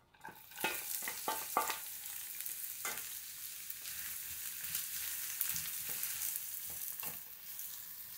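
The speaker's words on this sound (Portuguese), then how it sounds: "Ó, eu dei uma douradinha na cebola." Onion frying in oil until golden for a farofa, a soft steady sizzle punctuated by several quick scraping stirs of a utensil, close and fairly quiet, with no voices.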